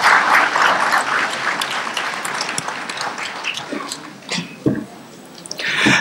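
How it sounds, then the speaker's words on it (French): An audience bursts into applause at a moderated talk, a dense round of clapping that gradually thins into scattered, individual claps with a few louder close hand strikes near the end. "Mesdames, Messieurs, vous avez le droit d'applaudir Maître Ablaye."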